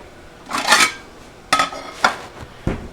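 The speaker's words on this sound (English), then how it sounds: "Let me get a plate." A plate is taken out in a kitchen, giving a few sharp clinks and clatters of dishware in separate bursts, close and fairly loud.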